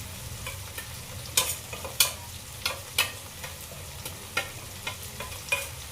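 Coriander powder and garam masala sizzle in a hot pan while a spoon stirs them, scraping in irregular sharp clicks over a steady frying hiss.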